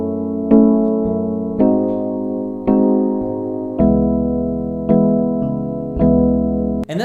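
A piano plays a slow minor 4-5-1 chord progression, with six sustained chords struck one after another at an even pace. Each chord rings clearly and decays before the next, with no talking.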